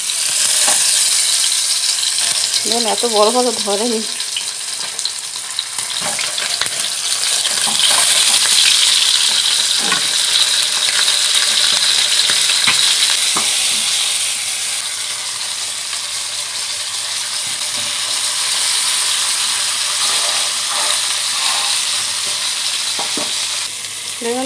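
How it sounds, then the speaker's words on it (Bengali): Fish sizzling in hot white oil in a wok, seasoned only with turmeric: a loud, steady frying hiss that swells and eases over time. A few clinks of a utensil come through, and a short spoken remark is heard near the start. "এখানে আমি সাদা তেলে মাছটা ভেজে নেব"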